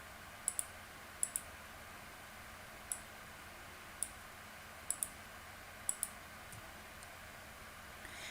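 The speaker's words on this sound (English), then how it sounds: "And I click next to each folder and then click Control all the way down." A computer mouse clicks about ten times in crisp, sharp, isolated taps, some in quick pairs, close and clear over a quiet room hum.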